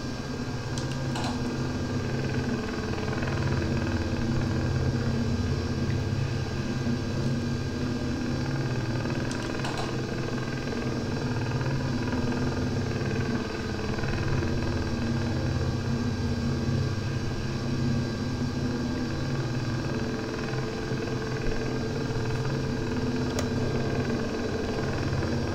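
A continuous, droning Russian helicopter engine hum with a steady rotor rumble, moderately loud and unchanging throughout, with no voices.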